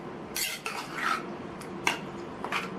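A spoon stirs tempering into snake gourd and moong dal kootu in a metal pan, making several quiet, irregular scraping and clinking strokes with soft wet squelches between them.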